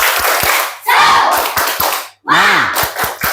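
A class of students doing a rhythmic spirit clap together, with sharp claps in quick patterned bursts mixed with children's voices chanting along, loud and close, with a short pause midway.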